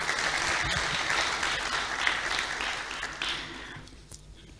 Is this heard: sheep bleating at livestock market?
no